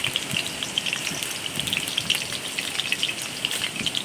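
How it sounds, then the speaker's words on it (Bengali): Black cumin seeds crackle and spit in hot vegetable oil in a wok, a dense, close, rain-like patter of tiny pops lasting several seconds with no voices. "তেলে আমি কালো জিরে দিলাম"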